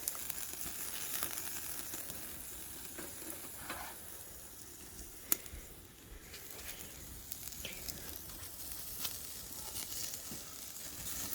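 Steak sizzles and fries in a pan with a steady, crackling hiss throughout, broken by a few soft pops and one sharp tick, with no talking.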